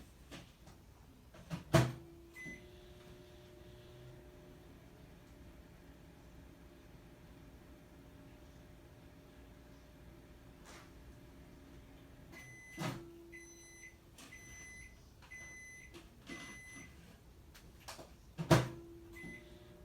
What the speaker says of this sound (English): I'm going to go put this one in the microwave